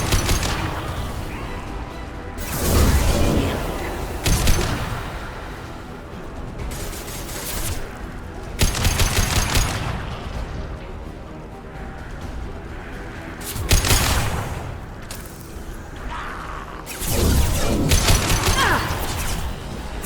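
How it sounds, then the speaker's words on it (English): Gunfire exchanges from the video game Mass Effect 2, set on Omega, come in several loud bursts and volleys separated by short lulls, with crashing impacts mixed in. "We've got company. Firing now."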